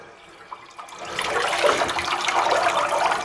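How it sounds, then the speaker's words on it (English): A janitorial-closet toilet in a medical facility flushes loudly: a click, then a rising rush of water that swells and keeps churning steadily, heard up close with no talking. "You want to flush the toilet, make sure all the water is drained out"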